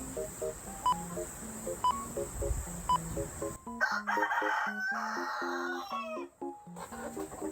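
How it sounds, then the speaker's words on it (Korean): Rooster crowing several times amid clucking chickens, with a few clear calls first and then a louder burst of overlapping crows and clucks close by, no talking. "아기가 닭 소리를 듣더니 깜짝 놀랐어요."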